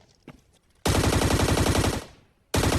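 Automatic gunfire in the mobile battle-royale game Scarfall 2.0 on the Mumbai map: a loud sustained burst of rapid shots that cuts off abruptly, then a second burst starts after a short pause.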